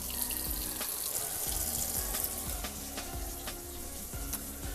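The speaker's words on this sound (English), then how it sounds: "I'm going to get me a cup of hot water." Hot water runs steadily from a tap into a cup in a home kitchen, a continuous hissing splash at moderate level with faint clinks, and no talk.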